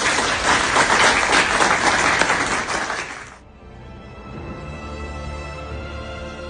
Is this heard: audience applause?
yes